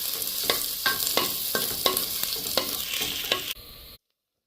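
Onion, green chili, ginger and garlic sautéing in hot coconut oil for a Kerala raw mango fish curry, a steady close sizzle broken by regular scraping stirs about every half second, ending abruptly.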